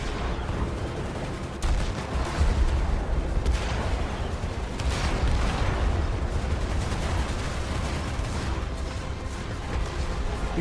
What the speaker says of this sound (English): the explosion effects are really good